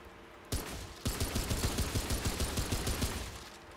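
Automatic gunfire at a small firing range in the game Remnant: a brief shot, then a quick regular burst of loud rapid rounds lasting several seconds, with no voices.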